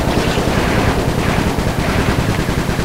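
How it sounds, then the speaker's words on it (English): Rapid, dense gunfire from the Sly 3 video game, a continuous loud burst of overlapping shots with no pauses across the whole stretch. "The gun is more effective."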